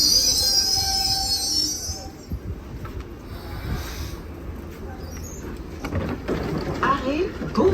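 A Paris metro train running, with a high metallic wheel squeal early on that gives way to a steady low rumble and rattling carriage noise throughout, while faint voices murmur in the car.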